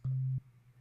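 A soft, steady low-velocity MIDI synth note holds for about a third of a second, then fades into a faint lingering hum.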